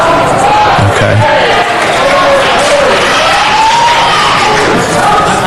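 A crowd in city council chambers shouting and cheering loudly, a continuous roar of many voices with some raised individual shouts, filling the whole stretch.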